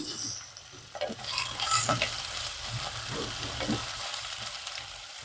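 Turmeric stirred into frying masala in a pan for potato curry, a soft steady sizzle under close spoon scraping and stirring strokes, continuous and moderate, no voices.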